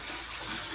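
Water pours into a container to fill up a bathroom that has no tap water. A brief, close splashing rush is heard on its own.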